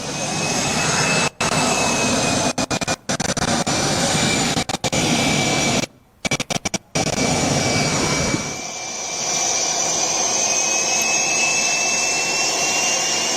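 A Tejas Mark 1A fighter jet's engine gives a loud, steady roar with a high whine through it. The sound cuts out in several brief dropouts, then settles into a quieter, more distant rumble.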